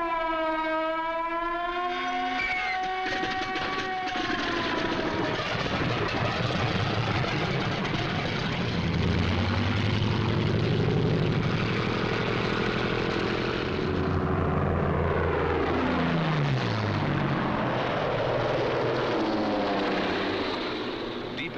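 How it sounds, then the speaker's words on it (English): Piston-engined WWII Mustang fighters flying in formation as bomber escorts, a continuous heavy engine drone that swells and shifts in pitch, with a siren-like whine at the start, loud and steady throughout. "A group of escorting Mustangs watches every corner of the sky."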